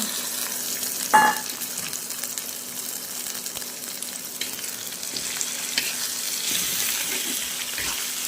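Shrimp coated with chili powder, coriander, turmeric and salt sautés in a pan, a soft continuous sizzle with occasional stirring scrapes and a sharp clink near the start, close by and without talk.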